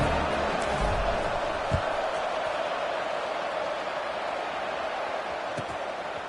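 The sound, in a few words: football stadium crowd buzzing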